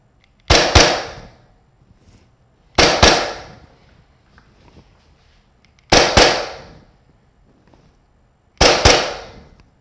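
Four loud pistol shots ring out alone during self-defense grip practice, evenly spaced about three seconds apart, each a sharp crack with a short echoing tail.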